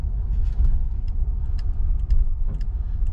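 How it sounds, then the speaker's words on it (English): A car rolls down a residential street at night outside a house, heard as a steady, loud low rumble of engine and tires with faint ticking on top. "there's another car coming."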